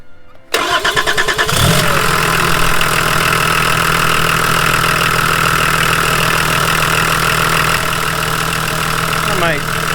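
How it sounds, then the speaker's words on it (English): A Volvo 740 with a D24t turbo diesel cranks briefly and catches, then settles into a loud, steady, slightly knocking diesel idle that runs on without a break. "I'm gonna start her up and see if it's charging."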